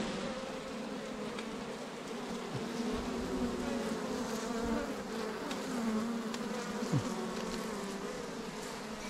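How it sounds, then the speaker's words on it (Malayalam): Honeybees swarm around an opened hive on a bee farm, making a dense, steady buzzing hum that stays close and loud with no talk. "ഇപ്പുറ സൈഡിലാണ് ഈച്ച കൂടുതൽ."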